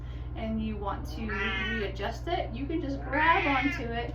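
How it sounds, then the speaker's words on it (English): A pet cat meows a couple of times close by indoors, its cries overlapping someone talking over a steady low hum. "that's my cat"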